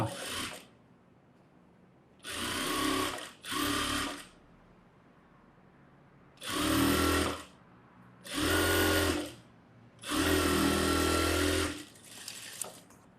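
Sewing machine stitching thread piping in repeated short bursts of a few seconds each, separated by quiet pauses, close and fairly loud with no talking.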